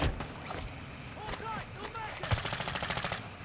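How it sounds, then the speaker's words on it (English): Rapid gunfire in the Call of Duty DMZ video game, with bursts of automatic fire and a sharp crack near the end, mixed with game ambience and a voice speaking over it. "they're shooting me through the rocks and the rail tie"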